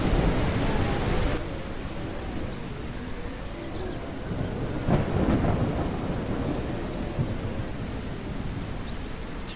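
Heavy, steady rain and a deep rolling thunder rumble fill the scene in the survival video game Mist Survival, a dense continuous wash of storm noise with no voices.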